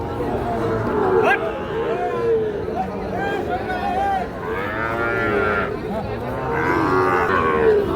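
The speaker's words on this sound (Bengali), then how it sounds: "এই যে এই দুটো গরু" Sahiwal cattle moo repeatedly at a cattle market, long low calls rising and falling, over a busy crowd murmuring and chattering in the background.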